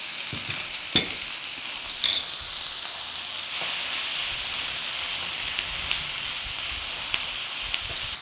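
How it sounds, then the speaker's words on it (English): Spices (pepper, chili powder, turmeric and salt) being stir-fried for a lamprey curry give a continuous close sizzle, punctuated by sharp spatula scrapes and clinks against the pan, with no voices. "While I stir fry, Now I am using a little pepper, a little more chili powder, a little turmeric and a little salt."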